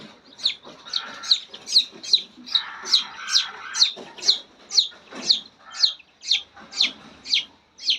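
Young desi chickens being given vaccine drops peep and cluck close by in a steady rhythm, roughly two calls a second, with soft rustling between calls.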